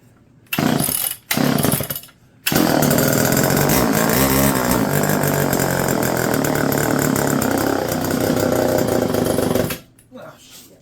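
A rare blue Homelite EZ chainsaw engine, under revival, sputters through two brief catches, then runs loud and close for about seven seconds before cutting out.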